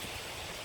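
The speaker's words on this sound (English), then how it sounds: "We're about to be right on top of the waterfall" A waterfall in the South Wales countryside, heard up close as a loud, dense, continuous rushing roar of falling water with no talk.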